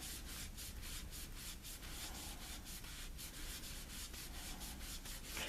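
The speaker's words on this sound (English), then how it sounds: "there's also a chance that you're going to accidentally rub through it, but you do see that it does come off with the wipe." Tar being rubbed and wiped off a rotten doll with a cloth gives steady, close scrubbing strokes in a regular back-and-forth rhythm, alone with no talk.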